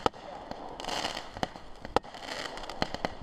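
A fireworks cake fires a quick series of sharp bangs and crackles at irregular intervals, moderately distant and outdoors near a dock, with a hiss of bursts between the louder reports.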